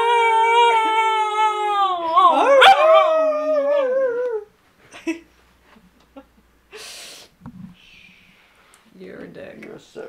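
A dog howls in a long wavering, rising and falling cry for several seconds, then gives a few short yips and whines; a person talks softly indoors around it.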